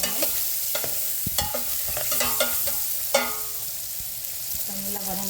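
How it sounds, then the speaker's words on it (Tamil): Garlic and onions sautéing with dal in a pan, a soft continuous sizzle punctuated by sharp scraping and clinking stirring strokes, close and fairly quiet, no talk. "பருப்புக்கு வந்து உள்ளி வெங்காயம் எல்லாம் நல்லா வதங்கணும்."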